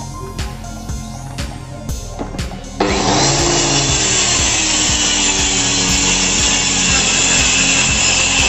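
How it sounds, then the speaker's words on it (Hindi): A power saw bites into an eight-foot wooden bed beam to cut it to six feet. After a few seconds of clicking and low hum, a loud, steady, grinding cut starts abruptly and runs unbroken to the end. "दोस्तों हम सबसे पहले इसको 6 फुट की लंबाई में कटिंग करेंगे।"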